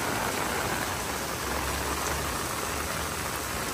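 Heavy rain pours down on a temple compound in Battambang, where floodwater is pooling and running. A dense, even hiss stays constant throughout, with a faint low rumble beneath.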